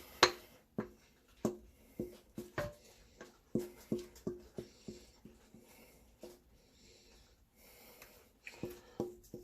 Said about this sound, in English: I hear my dog chewing on something in the background.